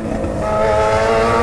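Yamaha XJ6 motorcycle engine revving hard, a loud, close, sustained roar that climbs slightly in pitch over a second and a half, with no voices.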